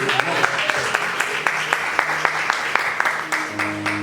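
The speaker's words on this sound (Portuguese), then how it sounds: "Pode aplaudir o nome do Senhor Jesus." Loud, steady clapping from a church congregation at a communion service, with sharp, fairly regular claps over a sustained hum of organ or keyboard, and a voice speaking over it.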